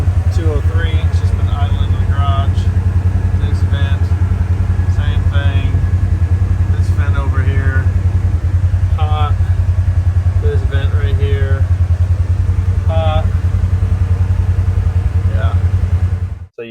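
Polaris General side-by-side engine running warm at a steady idle, a continuous low hum held throughout under intermittent speech.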